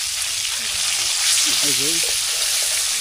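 Pieces of pangas fish frying in oil in a pan at a village cooking spot, with a steady loud sizzle as they are turned over; someone speaks briefly over it.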